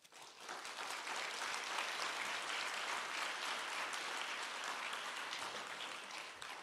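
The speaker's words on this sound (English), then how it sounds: "give yourself an applause" A graduation and pinning ceremony audience applauds, a broad sustained wash of clapping that swells quickly and holds for several seconds, heard at a slight distance.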